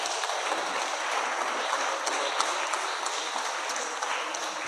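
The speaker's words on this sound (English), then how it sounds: "Applause." An audience at a cyber diplomacy conference gives continuous, even applause, a dense patter of many hands clapping at a steady level throughout.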